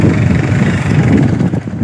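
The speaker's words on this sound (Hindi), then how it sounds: "ये बाइक है हमारी खतरनाक वाली" A motorcycle engine runs close by on a road, a steady, loud, low rumbling throb with no talking over it.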